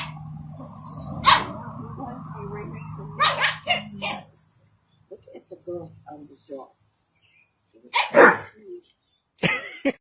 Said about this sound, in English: This big dog showed this little dog what a real bark is supposed to sound like.